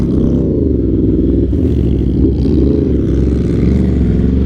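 A 2024 Yamaha R1 with a Stage 1+ ECU flash pulls away, its engine loud and close, the note swelling and wavering as the throttle opens, with no voices over it.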